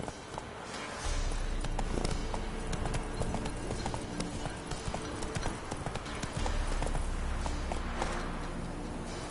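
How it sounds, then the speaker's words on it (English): Roach the horse galloping in The Witcher 3 video game, rapid continuous hoofbeats pounding close and loud over a low rumble for the whole stretch, with faint game ambience behind. "Not so fast, Roach"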